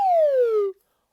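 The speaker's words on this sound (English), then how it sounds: "let's warm up with the slide whistle" One quick downward glide on a slide whistle, a bright pure tone sliding smoothly lower over under a second before stopping abruptly, heard alone during a kindergarten music lesson.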